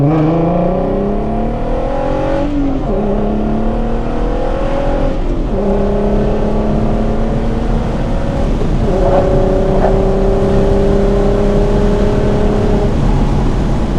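A 3.6L VR6 engine in an all-wheel-drive Mk6 Volkswagen GTI with big cams revs hard and close, climbing in pitch through several gear changes, with each shift briefly dropping the tone before it rises again.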